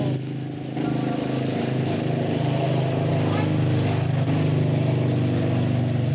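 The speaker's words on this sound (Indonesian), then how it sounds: "Itu motor siapa ya?" A motorcycle engine runs nearby as a continuous low droning hum with slight revving, steady for about six seconds, with faint voices in the background.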